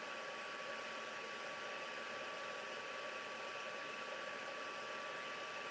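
A heat gun melts gold embossing powder, making a steady, even blowing whoosh with a faint whine that runs unchanged the whole time, with no voices.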